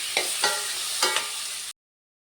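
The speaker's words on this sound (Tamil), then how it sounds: "நல்லா ஃப்ரை பண்ணி வச்சுக்கலாம்." Cut elephant foot yam frying in a pan for a tamarind curry gives a soft, close sizzle with a few stirring scrapes, then stops abruptly and is followed by silence.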